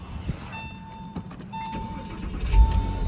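A Porsche engine, just repaired after a failed start with a blown ECU fuse and no fuel pump activation, cranks with a whirring starter and catches into a running idle, close and steady, with no talking.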